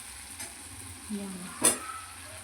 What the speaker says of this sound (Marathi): आता मसाला परतून घेते